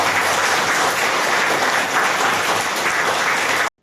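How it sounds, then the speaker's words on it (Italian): A crowd gives sustained, close, loud applause as a tribute at a football trophy event, unbroken until it cuts off abruptly. "Un applauso ancora."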